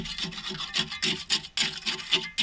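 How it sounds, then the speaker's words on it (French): A trowel repeatedly jabs and scrapes through wet concrete while a concrete threshold is being formed. The rasping strokes come in a steady, close rhythm of about eight short pulses, with no talking. "comme ceci avec votre truelle pour que le béton s'enfonce bien"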